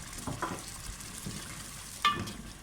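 Sabut masoor dal pulao mixture with tomatoes and crushed red chili fries in a pan, a soft steady sizzle with a few stirring scrapes and one sharp clink of a utensil near the end.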